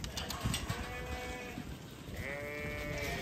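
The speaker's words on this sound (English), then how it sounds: "So all the lambs are now in, and the rest of the ewes are going to go up." Ewes and lambs bleat at a store lamb sale auction. Several overlapping calls, some quavering, rise over a noisy pen full of shuffling and clatter, with no talking.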